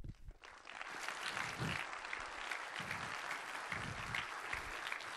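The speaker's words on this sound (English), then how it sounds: "that in itself I think deserves a big round of applause" Audience at a C++ software talk breaks into steady, sustained applause for a speaker, dense clapping filling the room at even loudness without talk over it.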